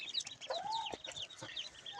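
Chickens at a poultry seller's farm that also sells ducks give a quick run of short clucks and one longer drawn call, moderately near and fairly soft, with no talk.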